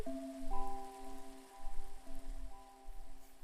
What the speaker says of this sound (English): Oh, is it rain?